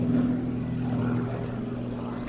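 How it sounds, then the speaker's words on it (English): Steady propeller aircraft engine drone at an air show, holding a strong even tone with a bright harmonic whine, loud and close throughout with no voices heard. "Up the throttle, very short takeoff run, look at that, airborne straight away."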